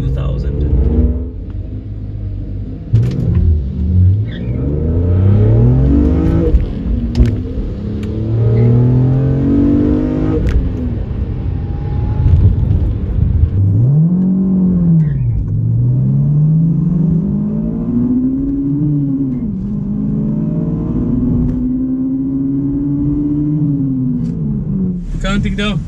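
A Honda S2000 and a BMW E46 M3 rev their engines up and down in repeated rising and falling sweeps, loud and close, with people talking over the engine noise at times.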